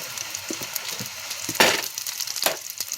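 Burger patties fry in a hot pan, hissing steadily with scattered sharp pops and one louder spattering burst, close and without talk.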